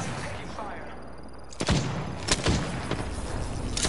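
Gunfire in the video game Apex Legends: two or three loud, sharp shots crack out in quick succession over a steady game background, with talk from players nearby.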